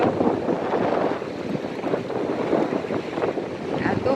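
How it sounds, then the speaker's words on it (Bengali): Strong, cold wind blowing at a seaside beach near Houston, a steady broadband roar of gusts buffeting the microphone, with faint surf underneath and no speech. "এত হাওয়া দিচ্ছে, এত ঠান্ডা"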